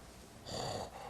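A voices a heavy, rasping breath to imitate Michael Myers from the Halloween films. It is a single close, short breath that swells and then cuts off.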